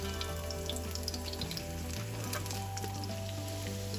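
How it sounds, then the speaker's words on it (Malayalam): Chicken pieces frying in hot oil in a pan for chilli chicken, a steady, faint sizzle and crackle with no one speaking. "ഇതിനകത്ത് തന്നെ നമുക്ക് അടുത്ത ബാച്ച് ചിക്കനും ഫ്രൈ ചെയ്ത് മാറ്റാം"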